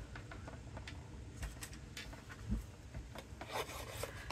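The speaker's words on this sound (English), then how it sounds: "I want to rough up this paper." A bone folder scrapes and rubs along the edge of a sheet of paper, giving quiet, close, irregular rasping strokes with a few sharper scratches and no talking.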